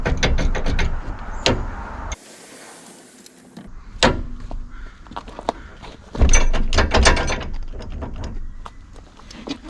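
Metal latches, pins and chains clank and click as a flat tow hitch is unlocked and disconnected from a Ford Bronco, in close, sharp bursts separated by brief quiet gaps.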